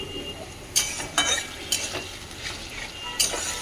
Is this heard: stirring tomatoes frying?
yes